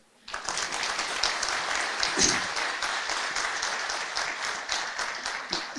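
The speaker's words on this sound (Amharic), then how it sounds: "እባካችሁ መጀመሪያ ዝም ብላችሁ አጨብጭቡለት" An audience applauds to welcome a speaker at a talk event, sustained dense clapping from many hands filling the room, loud and steady for several seconds with no speech.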